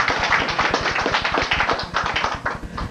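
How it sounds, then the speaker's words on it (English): Studio audience clapping and cheering for Rod's birthday at Hornbacher's, a dense, steady burst of applause close and loud throughout, with no voices rising above it. "Let's everybody give Rod a big cheer."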